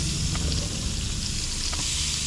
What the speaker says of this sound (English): You hear that sizzle, it is hot.